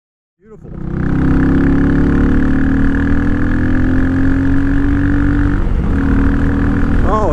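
A Royal Enfield Meteor motorcycle converted to a dirt bike rumbles steadily through its exhaust pipe with a deep, rolling note, holding a constant loud drone after starting up, with a slight shift near the end.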